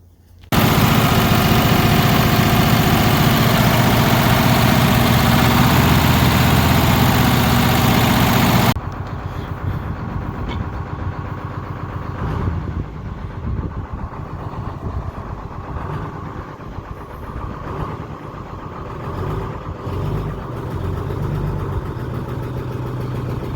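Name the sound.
USS Texas silversides engine running on its first start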